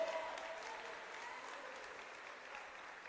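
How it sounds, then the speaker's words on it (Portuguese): Congregation clapping hands at an evening church service, a steady, fairly distant wash of applause that fades slightly over the few seconds. "Quem crê, dá glória a Deus, batam palmas para o Senhor."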